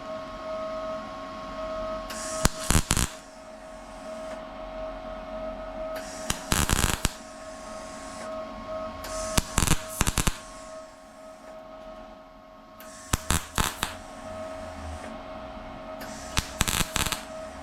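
Repeated short bursts of crackling welding arc on a Chevelle fender, about five spaced a few seconds apart along the edge of the previous weld, each a loud sizzling buzz over a steady electrical hum.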